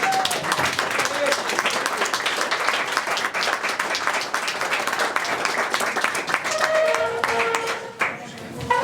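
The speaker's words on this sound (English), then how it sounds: "A round of applause, please," An audience applauds a guest at Timbers in Goleta, California, with steady, dense clapping that lasts throughout, along with a few voices and a brief dip near the end.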